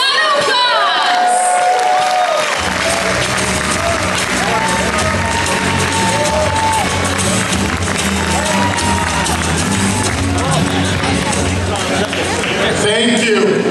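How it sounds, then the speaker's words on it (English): A gala audience bursts into loud, sustained cheering, applause and whooping as a comedian is welcomed to the stage. The crowd noise carries on steadily for the whole stretch. "let's get ready for some laughs and make some noise for Angelo Tsaroukas"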